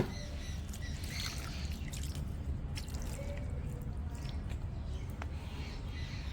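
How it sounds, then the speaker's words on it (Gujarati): Water poured onto potting soil in a pot, a soft steady trickle and patter lasting several seconds at low level. "થોડું પાણી રેડીશું દઈશું હવે"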